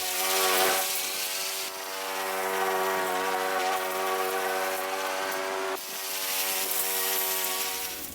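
A lawn mower running, a steady droning engine hum that swells and dips slightly as it moves, close by and alone.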